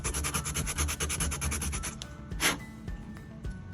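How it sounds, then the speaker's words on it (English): Sandpaper rubs rapidly back and forth against a plastic RC car part to smooth off factory stubs, a close, fast rhythmic scratching that slows into a few separate strokes. "these little stubs right here come from the factory. I always sand them off, make that nice and smooth"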